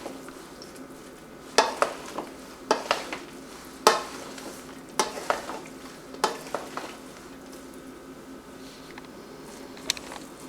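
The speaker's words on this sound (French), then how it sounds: "Mélange un peu." A quinoa salad is stirred in a bowl, giving a faint steady background with a cluster of light clinks and scrapes from the utensil, then quiet toward the end and no speech.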